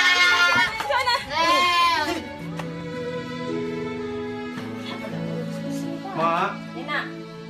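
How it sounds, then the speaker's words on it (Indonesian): A goat bleats loudly and close at the start, with wavering cries, followed by someone speaking and later a voice. "Mak ada kambingku."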